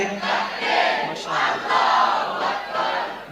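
A crowd at a Bengali religious gathering chants Nara-e-Takbir and Allahu Akbar, a loud massed shout that rises and falls in three or four swelling waves of voices.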